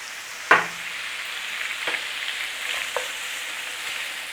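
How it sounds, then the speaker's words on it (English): Ground beef fries in a pan while a utensil breaks it apart, a sharp knock at the start, then a steady sizzle with a couple more scraping taps, no talking. "Now we are cooking this beef, no pink. We want it cooked. Just keep breaking it up."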